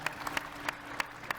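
An audience applauds at a resilient cities panel at Innovation Zero World 2025, a brief patter of scattered claps with a few sharper individual hand strikes standing out.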